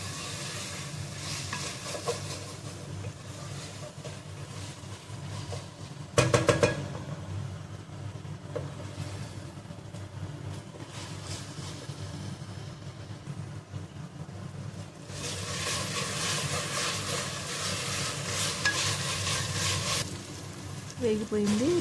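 Bagara rice ingredients frying and being stirred in a pan, a steady close sizzle with scraping stirs throughout, a brief louder clatter around six seconds and a brighter hissing surge in the last stretch.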